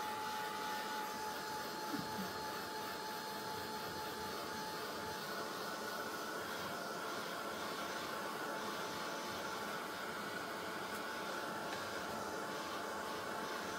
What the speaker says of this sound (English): I'm going to heat it so it's dry.